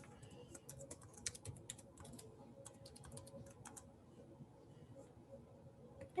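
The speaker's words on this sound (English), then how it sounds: "type in the email address, type in our new password that we've just created" Fingers type an email address and password on a computer keyboard, giving a quick run of light key clicks in irregular bursts, close and fairly soft over a low background hum.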